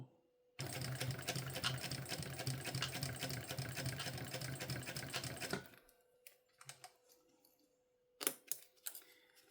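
A sewing machine stitches zipper tape onto a small backpack in one loud, rapid, continuous run of about five seconds, then stops, followed by faint handling clicks and a short tap.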